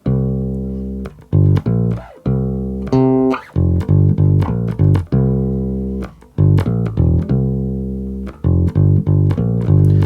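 A bass guitar plays a bluesy walking line in C alone, round low notes with clear attacks in a steady rhythm, some notes ringing longer before the next phrase.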